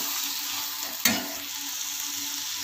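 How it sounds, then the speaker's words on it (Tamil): Onions, tomatoes and green chillies sautéing in a pan for potato masala, a steady soft sizzle with one brief sharp stir or scrape near the start. "உள்ள இப்போ பார்த்தீங்கன்னா வெங்காயம், தக்காளி, பச்சை மிளகாய் எல்லாமே நல்லா வதங்கிடுச்சு."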